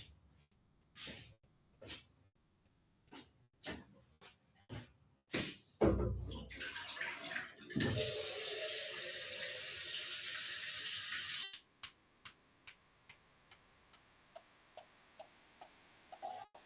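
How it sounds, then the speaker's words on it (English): A tap runs with a steady rushing gush for a few seconds while a container fills with clean water. Before and after it come scattered sharp knocks and clicks from handling in a quiet room. "Okay, I have clean water in my container."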